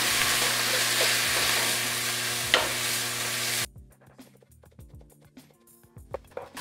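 Onions and celery sizzle loudly in olive oil and butter with a steady, close frying hiss, then the sizzle drops away abruptly, leaving quieter stirring clinks and scrapes in the pan.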